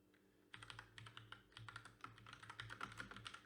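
Computer keyboard typing close by, a quick uneven run of clicky keystrokes starting after a short pause and continuing steadily, heard alone at a quiet level over a low background hum.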